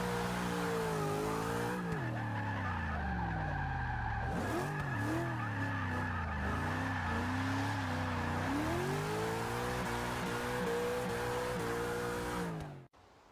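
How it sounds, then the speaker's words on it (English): Racing-game drift practice in Forza Motorsport with a highlighter yellow Camaro at Daytona: a loud, steady engine drone that rises and falls with revs alongside tire squeal, running continuously before cutting off abruptly at the end. "we're going to start with a little Forza Motorsport, some drift practice in a highlighter yellow Camaro"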